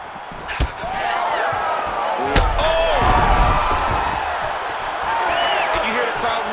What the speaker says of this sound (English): And you hear the crowd react.